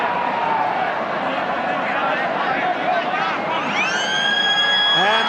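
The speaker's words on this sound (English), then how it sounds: "And the siren sounds" A full-time siren wails at a rugby league stadium, rising in near the end over a packed crowd's steady roar, with a commentator talking throughout.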